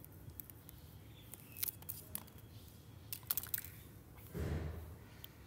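A knife cutting through an aloe vera leaf from the bottom gives a run of faint, crisp clicks and snaps, followed by a short soft tearing rustle, close and quiet with no talking.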